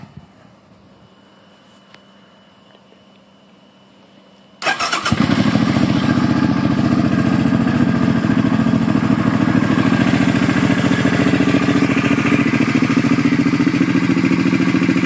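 A 2007 Suzuki M50 motorcycle, fuel injected, sits quietly before its engine catches suddenly, then settles into a loud, steady, even idle heard up close.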